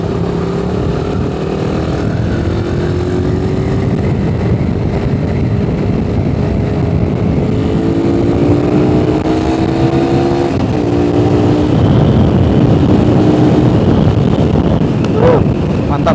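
A Suzuki Satria FU motorcycle with a standard 150cc engine accelerates hard, its loud, close engine note climbing steadily in pitch through the gears, with strong wind buffeting throughout.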